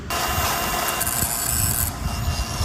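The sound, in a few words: grinding paint off a motorcycle kickstand before welding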